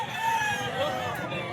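Fighting cocks, young gamefowl about a year old, crow in a drawn-out cock-a-doodle-doo at moderate distance, with a second rooster's crow overlapping amid faint background chatter.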